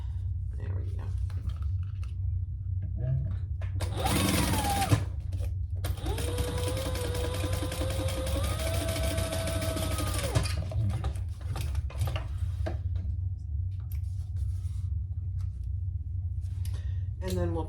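Sewing machine stitching the bottom seam of a purple crossbody bag, a steady mechanical whir in two bursts, a short one then a longer run of several seconds, over a constant low background hum.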